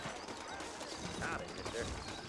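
Horse hooves clip-clop at a steady walking rhythm in the Red Dead Redemption video game, fairly faint beneath game ambience and someone talking over it.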